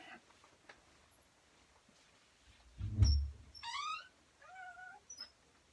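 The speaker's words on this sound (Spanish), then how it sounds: "Mi gatita que siempre quiere estar aquí en las filmaciones" A pet cat indoors gives a couple of short meows near the middle and end, with a low thump and quiet background between them.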